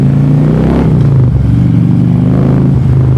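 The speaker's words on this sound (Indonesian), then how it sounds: "ini knalpot juga udah ganti, jadi makanya suaranya rada" A loud Harley-Davidson Street Glide motorcycle with an aftermarket exhaust idling and revving close by, its deep throaty exhaust rumbling steadily with brief throttle blips.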